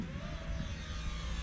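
A small DJI Tello drone lifts off from the roof of a car outdoors in wind, its rotors giving a quiet, steady high buzz with a faint rising whine over low wind rumble.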